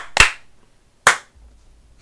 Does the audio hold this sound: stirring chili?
no